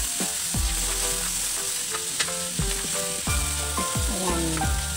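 Sautéing bird's eye chili and tomato in a pan for fish sinigang, a steady close-up sizzle with intermittent stirring scrapes and soft clinks, no talking.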